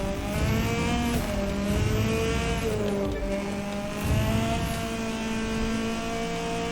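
Car engine in The Crew 2 racing game on the Summit United States East event, surging under nitrous boost: a loud steady roar with rising pitch and brief gear-shift dips, no voices.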